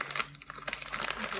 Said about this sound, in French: on va ouvrir notre packaging pour voir ce qu'il y a dedans